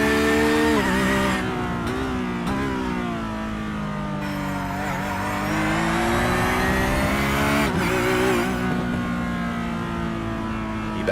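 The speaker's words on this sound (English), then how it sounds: "The car sounds great though on board, doesn't it?" Onboard sound from an Australian Sports Sedan race car at Winton: a loud, raw engine note rising and falling through gear changes, with brief cuts on each shift and sustained high revs, no voices heard.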